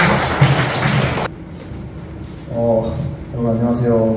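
An audience at the opening ceremony of an artist's solo exhibition in an Insadong gallery gives a dense burst of applause that stops abruptly, after which a person speaks alone in the quieter room.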